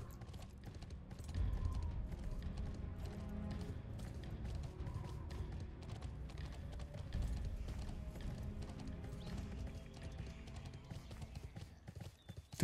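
Horse hooves clip-clop steadily through the Bless Online game world, a continuous rhythmic trot at moderate loudness under layered in-game ambience and music, with no talk over it.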